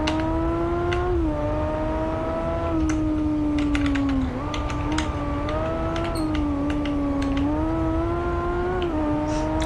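A motorcycle engine in the racing video game Ride 2 holds a steady, loud tone with gentle pitch rises and dips as the bike is ridden. Faint keyboard-like clicks sit over it, and no one talks.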